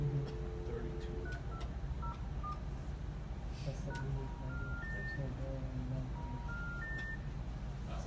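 A telephone dialing pad sends a series of short DTMF tones during an Avaya call-routing test, with scattered single beeps followed by quicker runs of key presses and a person's voice low in the background.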